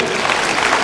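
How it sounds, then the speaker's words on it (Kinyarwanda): Audience applause at a New Year celebration gathering in Gitega province, a dense, steady wash of clapping from a crowd that fills the whole short moment. "dusaba mwese muri kamwe kumira amashyi menshi"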